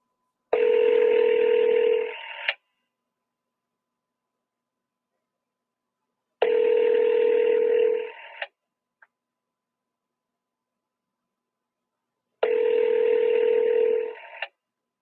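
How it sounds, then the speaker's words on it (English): Telephone dialing tones while calling a seller: three long, identical bursts of steady tone, each about two seconds long, separated by about four seconds of silence and clearly heard alone. "This lady, I'm going to try to call her one more time"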